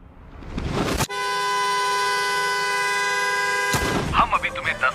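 A sustained, loud blare from many car horns sounding together, held steadily for almost three seconds, with noisy crowd sound before and after.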